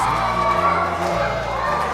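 A school assembly crowd cheers and claps at a Cowboy Ted show, a short dense burst of children's shouting and applause, close and loud.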